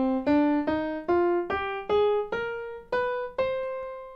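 Single notes of a minor scale rise step by step on a keyboard, about nine evenly spaced clear tones, each struck and ringing briefly into the next, played alone with no talking.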